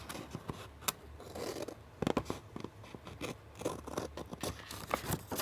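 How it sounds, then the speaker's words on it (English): Scissors cut through paper for a dashboard layout, making a series of close, crisp snips and scraping sounds in an irregular rhythm, with no talking. "So I'm gonna lift this up and we're gonna cut this."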